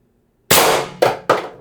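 Three sharp air-gun shots from an HPA-powered Pistelle X-68 pistol with a plenum birdcage mod, firing 11 gram Sumo XL shot at 850 PSI. The first shot is followed by two more roughly a quarter second apart, loud and close.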